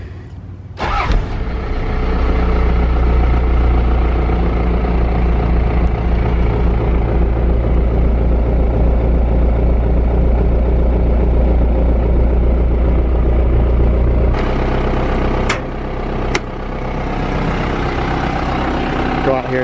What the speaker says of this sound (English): The truck cranks right up at the touch of the button.